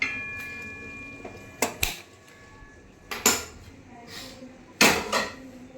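Pav bhaji cooking in a pan as a lid and utensils clatter on it, several sharp metallic knocks and clanks spaced over a few seconds against a quiet kitchen background.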